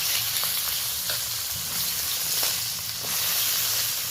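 Eggplant pieces frying in a little hot oil, with salt and turmeric added, give a steady, close sizzle and hiss throughout, with occasional light stirring taps and no talking.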